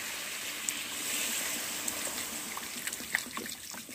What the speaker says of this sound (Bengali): এখন আমি দিয়ে দিচ্ছি জল।